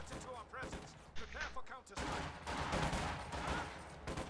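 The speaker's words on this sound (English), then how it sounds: "He's getting gunned down by combat engineers." Gunfire crackles through a real-time strategy game battle between infantry squads, with bursts of rapid shots and distant blasts blending into a busy, moderately quiet din while a voice talks over it.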